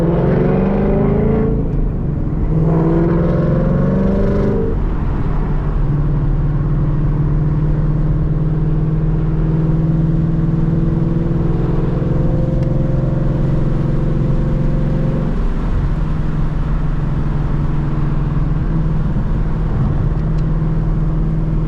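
Car with a Calimer Stage 3 transmission driving along, a loud steady engine drone throughout with a brief rise and shift in pitch early on, no talk.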